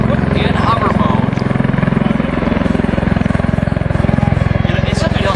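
A USMC MV-22 Osprey tiltrotor aircraft hovers close by, its rotors giving a loud, steady, throbbing roar with a fast rhythmic pulse that fills the whole span.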